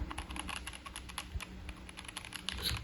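Fast, continuous clacking of typing on a GT9 mechanical keyboard with hot-swappable switches after two years of use, dense close keystrokes with no talking.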